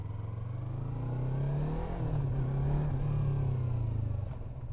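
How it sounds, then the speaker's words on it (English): Yamaha MT-03 motorcycle riding in sixth gear at about 40 km/h, a low, steady lugging engine drone under 3,000 rpm that swells slightly as it pulls, with no talking. "So I can go 6th gear, 40 kilometers an hour."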